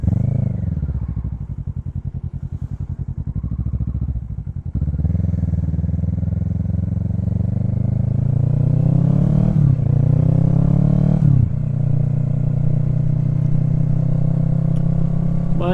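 A motorcycle engine idles and revs steadily with a low, continuous exhaust rumble, its volume swelling in a couple of short throttle blips partway through, heard close up with no one talking.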